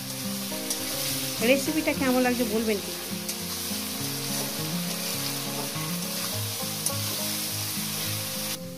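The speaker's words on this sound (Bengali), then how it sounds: "কত সুন্দর করে একটু 2 মিনিট কষিয়ে নেবে মশলাটাকে।" Spice paste fries and gets stirred in a pan for a chicken and potato curry, a steady loud sizzle with scraping stirring throughout, while someone talks over it.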